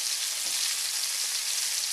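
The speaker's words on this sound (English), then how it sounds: "Here we have our fillets pan frying after I flipped them" Walleye fillets pan fry in hot oil, giving a dense, continuous crackling sizzle that is close and even, with no voices over it.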